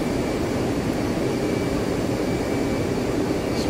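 An F-15C jet engine held at idle power in the DCS flight simulator, a steady, unbroken broadband roar with a faint high whine, loud and constant throughout.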